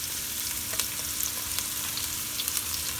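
Steady crackling sizzle of green onions frying in a hot pan for vegetable fried rice, with small pops scattered throughout.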